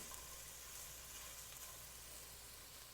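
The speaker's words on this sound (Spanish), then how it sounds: "vamos a verter ahí nuestra cebolla y la vamos a sofreír muy bien" Finely chopped onion sautéing in hot oil in a pan, a steady soft sizzle with no talk over it.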